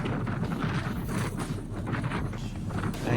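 Outdoor wind in New Zealand buffets the microphone in rough, uneven gusts, with low rumbling bursts and no clear voices.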